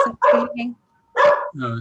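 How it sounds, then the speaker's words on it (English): A dog barks twice, close and loud, with a quiet pause between the barks. "My dog is saying goodbye there."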